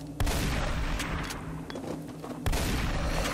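Shotgun blasts against zombies in the video game Them and Us: two heavy booming shots about two seconds apart, loud and close, with a rumbling tail between them.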